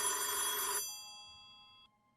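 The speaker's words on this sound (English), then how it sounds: "The phone's ringing." Telephone bell ringing in the horror game Azureal, one loud electronic ring that cuts off and leaves a fading tonal tail, with no voices.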